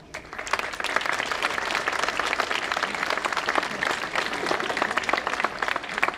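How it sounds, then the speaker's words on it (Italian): Sustained crowd applause at a 4 November National Unity Day ceremony in Lavello, a dense, steady wash of many hands clapping at even loudness for the full stretch, with no voices over it. "voglio che si faccia un grande applauso"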